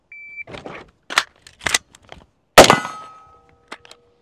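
A Watchtower Type 15 rifle is loaded with a magazine and charged, followed by a single sharp close shot and a ringing clang off a steel plate that fades slowly.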